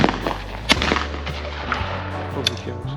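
A shotgun fires at a clay target on an ISU skeet range, one sharp, loud report cracking out early, followed by fainter knocks and outdoor background.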